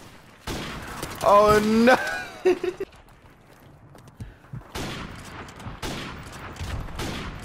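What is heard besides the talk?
gunshots from video game Modern Warfare Remastered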